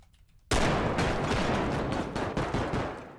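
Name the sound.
gunfire in a tactical shooter video game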